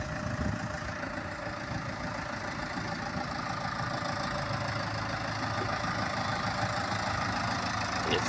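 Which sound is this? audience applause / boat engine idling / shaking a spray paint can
boat engine idling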